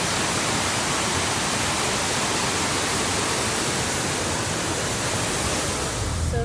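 A waterfall by a creek roars as a steady, dense broadband rush that stays loud and unbroken throughout, with no voices.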